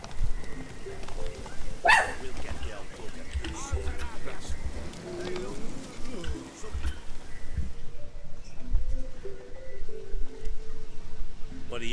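A dog in The Witcher 3 gives a sharp bark, then scattered fainter yips sound under a voice and the game's background ambience.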